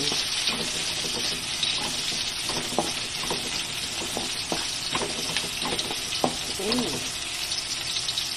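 Onion frying in a pan for creamy sopas, a continuous loud hiss and crackle of oil with occasional stirring scrapes, close up, with no talking.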